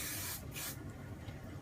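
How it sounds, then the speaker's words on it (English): Hairspray hisses from an aerosol can onto the front of wavy hair in two quick close bursts, a short spray followed by a longer one, then a fainter, softer hiss. "I just go in and spray the front first"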